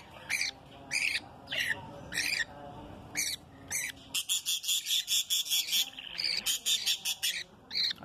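Lutino budgerigar chicks from a second clutch give repeated shrill, high chirps in short bursts, first spaced apart and then in a rapid, near-continuous run, close and clear with no talking.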